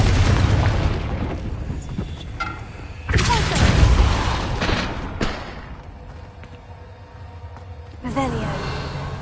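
Heavy booming blasts from the Confringo spell in a Harry Potter video game, with several explosions a few seconds apart and a voice talking between them.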